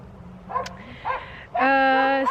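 Dogs barking and yipping in the background on a farm where foals are kept, with short whimpering yelps followed by a sustained, louder yelping call.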